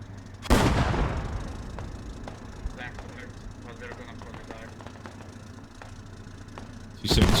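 Tank cannon fire during a firefight in the military game Squad: a loud heavy blast, then a low engine rumble with distant scattered shots, and a second cannon boom near the end.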